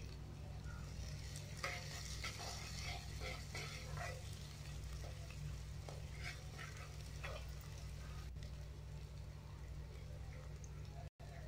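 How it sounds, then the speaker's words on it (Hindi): Ground ginger, garlic, onion and chilli paste fries on a medium flame for a rajma curry, a steady close sizzle with occasional stirring scrapes, and a faint voice murmuring beneath it. "ग्राइंड किया हुआ अदरक लहसुन प्याज मिर्च डाल देते हैं इनको मीडियम फ्लेम में भून लेंगे"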